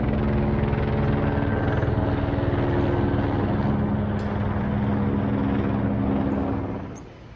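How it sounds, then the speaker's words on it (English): A helicopter drones steadily overhead near a railway station on the Birmingham to Worcester line, with a heavy, rumbling rotor thrum that stays loud throughout, then begins to fade at the very end. "Right, helicopter."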